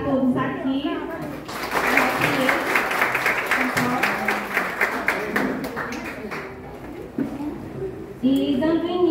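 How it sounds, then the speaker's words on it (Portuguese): Applause from the crowd at a rural workers' union general assembly, steady, dense clapping filling most of the stretch after a short voice at the start, with chatter and a few louder claps near the end. "Gostaria de uma salva de palmas para todos aqui"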